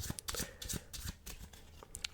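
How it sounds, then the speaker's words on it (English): A deck of playing cards shuffled up close during a quiet card magic routine, giving repeated crisp riffling and flicking bursts with no talk. "Give it a shuffle."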